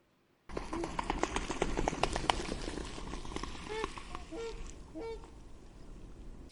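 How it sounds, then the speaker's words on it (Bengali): A swan calls with a few nasal, honking notes half buried in a dense, crackling wash of background noise, the calls fairly faint and spread through the middle of the stretch. "সোয়ান বাংলায় বলে রাজহাঁস।"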